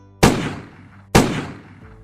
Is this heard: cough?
no